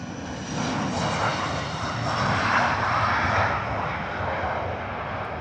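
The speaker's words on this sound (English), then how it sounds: "Embraer E145 out the door. With the jet engines at the back connected to the tail." An Embraer E145 regional jet with rear-mounted engines takes off at London Heathrow, a steady, broad roar of jet engines holding loud and constant throughout, with no talk over it.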